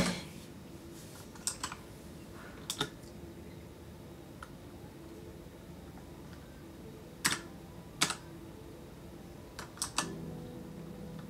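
Someone types on a computer keyboard while setting up a Minecraft world, with scattered sharp key clicks in small bursts and pauses over a low steady background hum, close and fairly quiet.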